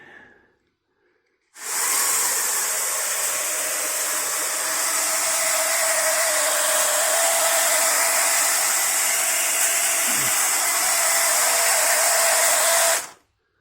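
A loud, steady whirring motor hum with a rattling mechanical buzz from a Matchbox toy car's internal spring drive starts abruptly, runs continuously for about eleven seconds, then cuts off.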